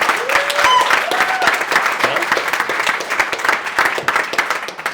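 An improv show audience breaks into a dense wash of applause that holds steady for several seconds before thinning into scattered claps, with a voice briefly audible at the start.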